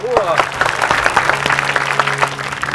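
An audience at a stand-up comedy roast claps and applauds steadily throughout, a dense crowd of hands with a faint voice or two mixed in.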